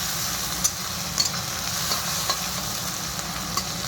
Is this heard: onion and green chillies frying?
yes